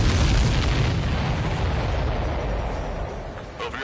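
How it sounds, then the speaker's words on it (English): Explosions during aerial combat in Ace Combat 7 produce a loud, continuous rumbling roar of blasts and booms that fades slightly toward the end, with no voices over it. "Did you see that explosion?"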